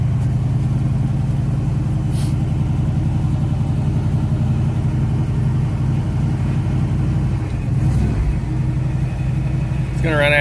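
A 1978 GMC one-ton dump truck engine runs steadily after a cold start, a continuous low idle rumble close to the microphone with a slight rise near the end.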